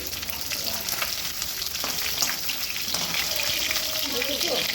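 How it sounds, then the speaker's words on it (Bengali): Hilsa fish frying in hot oil give off a loud, steady sizzle with crackling spatters throughout, close up, with faint talk in the background. "এখানে হচ্ছে ইলিশ মাছ ভাজা"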